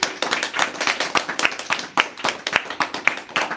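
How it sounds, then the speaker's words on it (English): An audience at a devotional talk gives a round of applause, many hands clapping in a brisk, dense burst that holds at an even level for a few seconds. "Everyone give a nice round of applause for Jai Nitai Prabhu."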